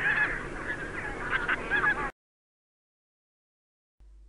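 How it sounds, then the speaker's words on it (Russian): Bean goose honking for about two seconds, a run of harsh nasal calls close by, then abrupt silence. "Гуменник."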